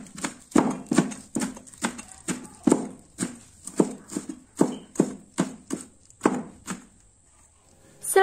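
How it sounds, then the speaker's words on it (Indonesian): Knife chopping celery leaves finely on a cutting board, about fifteen sharp, evenly spaced knocks in a steady rhythm, close and fairly loud, with no talking. "1 batang daun seledri. Ini juga dicincang halus ya Bunda"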